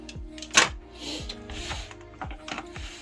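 Paddle shifters being removed from a BMW steering wheel, giving a series of small close clicks and mechanical ticks, with one sharper snap early on, all quiet and irregular with no talk.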